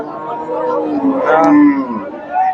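A cow at a cattle market gives a single close, drawn-out moo that rises and falls over a couple of seconds, with a second shorter low call at the end.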